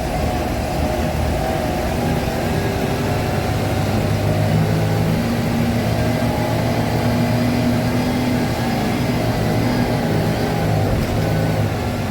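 Inside an MSRTC ST AC bus on the Mumbai to Alibaug route, the engine and cabin give a loud, constant low drone with a steady hum throughout, and no voices are heard.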